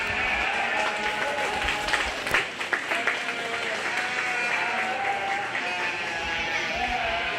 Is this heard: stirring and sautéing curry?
no